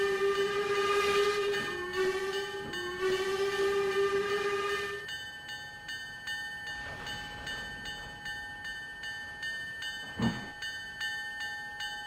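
A train sounds a loud multi-tone horn for several seconds and then keeps rolling along the rails, with a steady ringing hum and a sharp clank near the end.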